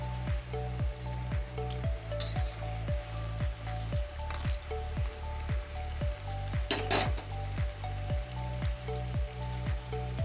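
Mysore bonda deep-frying in hot oil, a steady close sizzle with rhythmic bubbling bursts repeating about every half second, plus a brief louder crackle partway through.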